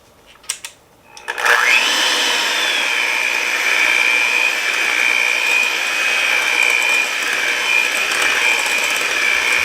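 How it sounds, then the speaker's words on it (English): After a few brief clicks, an electric mixer starts up and whirs steadily, beating powdered sugar into a no-bake cake filling with a constant high motor whine that holds close and loud to the end. "And now all I have to do is mix this all up."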